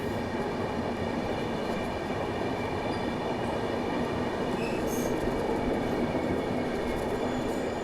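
Interior sound of the Ahmedabad-Gorakhpur Express underway, a dense continuous rumble of wheels on rails with steady rolling noise and faint high squeals, loud and unbroken, no talking.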